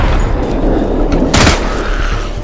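A grenade goes off in Into the Dead 2, giving one loud, broad blast in the middle over a constant heavy rumble of game audio.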